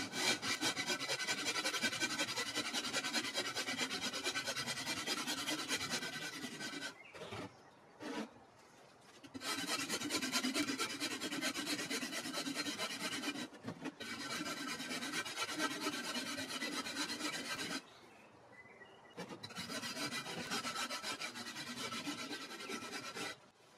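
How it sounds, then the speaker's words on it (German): A rasp scrapes steadily across aerated concrete (Ytong stone) while shaping a penguin sculpture, in long continuous rubbing strokes broken by a few short pauses, close and alone. "Weil dieses Extra etwa 5 mm dick sein soll, raspel ich es leicht flacher."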